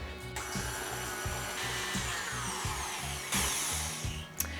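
An electric hand mixer beats butter and sugars for a coffee crumb cake batter, giving a continuous motor whine with a rhythmic pulsing churn and a louder burst near the end.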